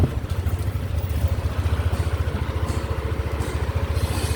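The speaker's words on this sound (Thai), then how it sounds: "สตาร์ทติดปกตินะครับ สามารถขับขี่ได้แล้วครับ" Yamaha Aerox scooter engine idling after repair of a no-start fault, a steady close putter with rapid even pulses and light mechanical clatter throughout, no voices.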